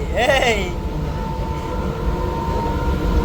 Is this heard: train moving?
yes